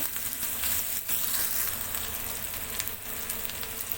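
Onions frying in a pan, a steady close sizzle with light crackling and a few brief dips, alone without voices.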